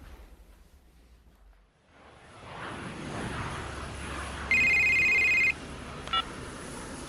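An outgoing phone call from a car park: a quiet hiss that builds up, then one long electronic ring tone for about a second, and a short beep after it. Nobody speaks.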